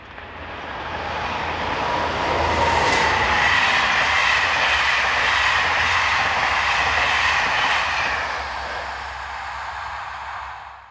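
French locomotive 22349 hauls the northbound 17:19 Paris to Maubeuge passenger train past, a loud, steady rumble with clickety-clack from the wheels that builds, holds for several seconds, then eases off, with no voices.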